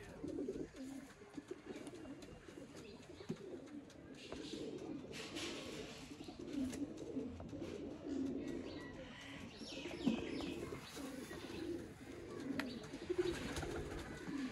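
A pair of A+ quality marrow teddy breeder pigeons coo softly in low, repeated throaty rolls, with faint chirps of other birds in the background and no talk.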